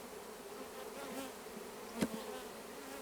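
Honey bees buzz around a newly installed beehive on a ranch, a continuous droning hum of many insects at close range, with a single bee passing loudly near the microphone partway through.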